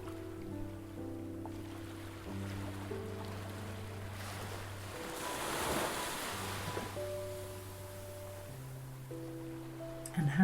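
Ocean waves washing onto a sandy beach, a soft steady surf with a gentle swell building and receding, heard faintly under a calm background tone.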